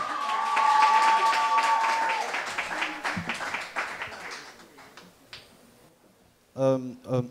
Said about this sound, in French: Un triomphe d'applaudissements, mesdames et messieurs, pour Ulrich Takam